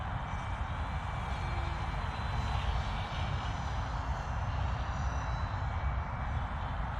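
FunBat flat-wing foam RC plane flying overhead, its small electric motor and propeller giving a continuous buzzing whine at steady volume throughout, with no talking.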